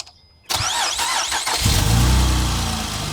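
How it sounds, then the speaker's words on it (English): A 2008 Acura TL Type S engine cranks and catches after a brief quiet moment, then settles into a loud, rough idle with a low droning rumble and an odd mechanical noise, close up with no talking. "every time I start the car, you guys will hear something like this"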